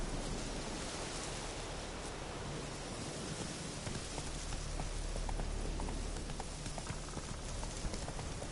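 The horse Roach walking in a video game, soft rhythmic hoof clip-clops under a dense steady hiss like rain, continuous and fairly faint.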